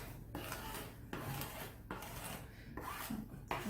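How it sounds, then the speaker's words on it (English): Dehydrated pear leather is scraped across a flat table surface in repeated rasping strokes, a soft dry scratching in several pulls with brief pauses, close and quiet, with no one speaking. "when I need to scrape, it's actually easier to have this on a flat surface"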